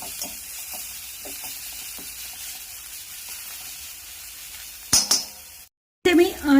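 A mixture with turmeric and coriander is sautéed in a pan, giving a soft, low sizzle with a few light stirring scrapes and clinks, then a brief louder clatter near the end.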